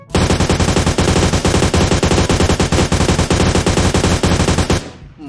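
Rapid sustained automatic gunfire from a UMP submachine gun in a shooter video game, loud and close, a continuous burst of evenly spaced shots lasting about five seconds before cutting off.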